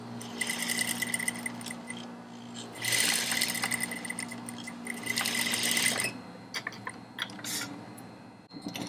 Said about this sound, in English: So we're going to top stitch those first.